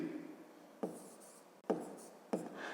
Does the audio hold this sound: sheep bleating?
no